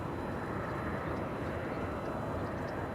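An Air New Zealand airliner at LAX gives off a steady broadband jet roar, constant and moderately distant, with no breaks or talking.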